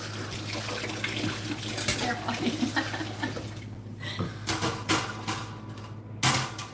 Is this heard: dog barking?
no